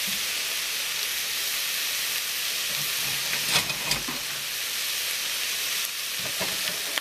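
Leftover food fries in a skillet with bacon fat, a constant bright hissing sizzle filling the whole stretch, with a few faint clinks and scrapes partway through.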